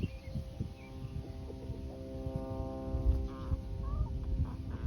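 Rhode Island Red chickens cluck and murmur close by in a backyard flock, soft overlapping calls with brief higher notes over a low steady hum, no talking heard.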